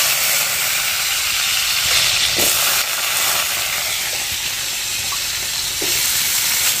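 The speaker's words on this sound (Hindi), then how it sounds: "तो अब अभी आलू दे देंगे, भुन जाएगा आलू" Potatoes frying in hot oil over a chilli tempering give a steady, loud, broad sizzle with a few soft clinks and stirring scrapes, close up and with no voices.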